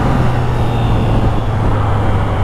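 A 2019 Yamaha XSR900 motorcycle cruising on a freeway gives a loud, steady engine drone mixed with rushing wind roar, constant and close throughout.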